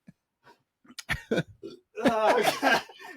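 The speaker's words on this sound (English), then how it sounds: "I got a burp and I'm laughing" A loud burp after drinking Coke, a few short throaty bursts building into a long, drawn-out belch that rumbles for over a second, close and alone.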